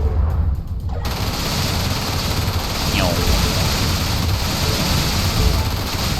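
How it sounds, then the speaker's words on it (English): Gatling guns shredding mineable crystals on an asteroid surface in the space game Everspace, a dense continuous rattling barrage over a loud roaring ambience, steady from start to finish. "There's mineable crystals across the surface of this asteroid, so we'll just shred them with our Gatling guns"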